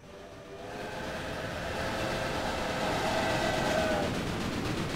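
Simulated trains in the Railway Empire video game, a steady loud rumble of rolling wheels with a faint whistle tone drifting through the middle, swelling slightly and holding steady, no talk.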